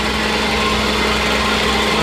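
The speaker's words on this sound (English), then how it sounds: "it just fired right up. And it sounds real good." The engine of a New Holland 1046 bale wagon, recently fitted with new spark plugs, runs steadily and loudly up close with an even, buzzing hum.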